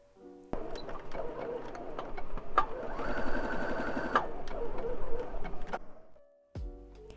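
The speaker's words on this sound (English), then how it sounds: "So you put the two strips of fabrics and stitch diagonal way like this." Sewing machine stitching two fabric strips together diagonally, a fast steady run of needle stitching lasting several seconds that starts and stops abruptly, close and fairly loud, with a brief mechanical clunk near the end.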